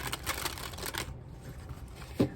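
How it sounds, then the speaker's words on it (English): Oracle cards are shuffled by hand during a tarot reading, giving a series of quick, soft papery riffles and flutters in close succession that stop near the end, followed by a single faint tap. "So real quick, let me shuffle these out."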